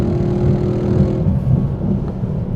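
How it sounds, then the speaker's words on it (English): A V8 car engine roars loudly and steadily, a deep throaty rumble that holds at high revs before easing slightly. "that is what an American V8 should sound like"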